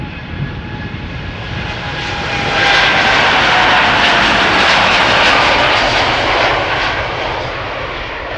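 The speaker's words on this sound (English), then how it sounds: "This is Air Canada flight 809, by the way, going to Toronto." An Air Canada Boeing 787-8 jet, flight 809 bound for Toronto, roars on the runway at Schiphol Airport, a broad steady engine rumble that swells loudly midway and then holds, with no voices over it.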